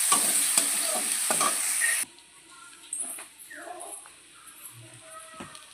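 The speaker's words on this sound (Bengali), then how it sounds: "চিংড়িগুলো আমার ভাজা ভাজা হয়ে এসছে, দেখো।" Prawns frying in a pan give a loud crackling sizzle for about two seconds, then it drops away to faint clinks, rustling and soft background sounds, including a brief whimper-like tone.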